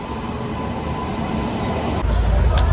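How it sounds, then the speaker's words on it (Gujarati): A train rumbles in close by as it arrives at a station in Ahmedabad, a low, heavy roll that swells louder toward the end, with a short squeal near the finish. "તો આપણી ટ્રેન આવી ગઈ છે"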